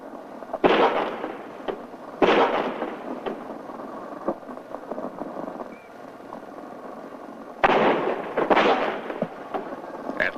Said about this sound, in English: At least 4 shots were fired